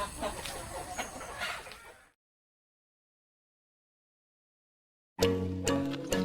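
Backyard hens cluck and chatter nearby for about two seconds, then a stretch of total silence, followed by another short burst of clucking near the end.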